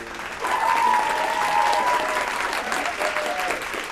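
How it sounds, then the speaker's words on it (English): Full-house audience applause in a school auditorium before a Christmas performance of The Nutcracker ballet, a steady, dense wash of clapping with faint tonal sounds and voices mixed in. "The full house claps."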